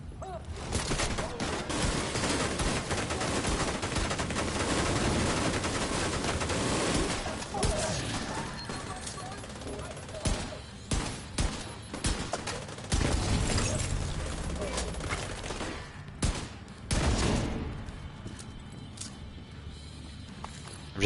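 Gunfire from a weapon in The Division 2, dense bursts of shots for the first several seconds, then scattered louder cracks and short volleys, with quieter gaps between.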